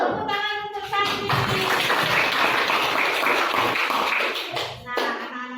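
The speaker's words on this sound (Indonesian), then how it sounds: "Tepuk tangan untuk Sakti." Classroom applause for a student, a burst of many hands clapping for several seconds, fairly close and loud, with a teacher's voice before and after.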